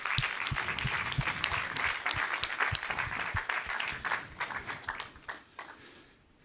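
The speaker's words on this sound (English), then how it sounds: "let's give some applause for the jury" Audience applause for the jury at the Climathon Global Awards ceremony: a broad crowd of clapping that holds steady, then thins out and fades away over several seconds.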